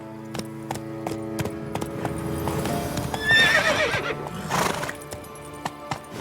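Roach, the horse from The Witcher 3: Wild Hunt, clip-clops with steady hoof beats, then lets out a loud, close neigh midway before the hooves carry on.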